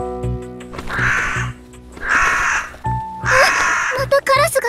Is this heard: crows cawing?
yes